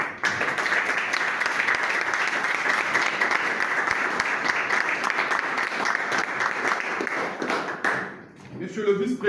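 Sustained applause from a congress audience of the MCSD party, a thick even roar of many hands clapping for about eight seconds before it drops off abruptly, followed by faint room noise.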